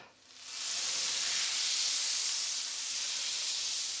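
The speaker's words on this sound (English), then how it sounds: "we'll add a generous amount of butter on the pan. Let it melt and sizzle up" Generous amount of butter melting in a frying pan before herring fillets go in, giving a steady, close, loud broadband sizzle and hiss that builds quickly and holds without talk.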